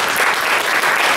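A crowd at a local candidate forum claps loudly in a short, dense burst of applause, close and continuous with no speech.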